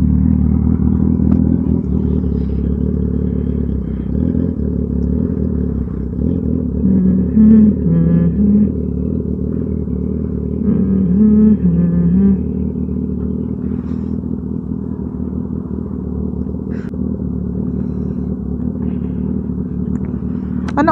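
Continuous low engine rumble from Ducati motorcycles idling nearby, with occasional faint revs and clatter, steady and loud throughout.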